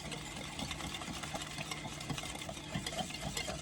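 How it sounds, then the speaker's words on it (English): Muffin batter is whisked in a bowl with a quick, steady scraping rhythm, close and fairly quiet, under a constant low hum. "Give it a good whisk."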